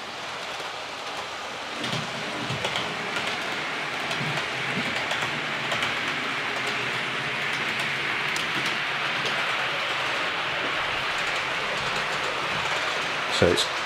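An OO gauge model train runs on a test layout with a continuous, even rumble and whir of wheels on track, with faint clicks throughout.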